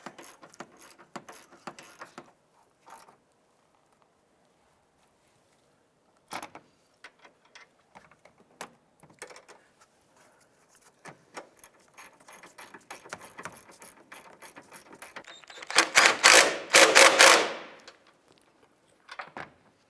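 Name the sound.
tightening strut upper mount nuts on Honda Civic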